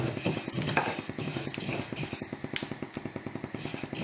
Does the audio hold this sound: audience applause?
no